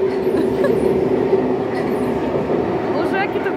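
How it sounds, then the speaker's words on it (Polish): A train rolls by close and loud, giving off a dense rumble with a faint metallic wheel squeal. Someone speaks under the noise. "Jeden pociąg jedzie właśnie."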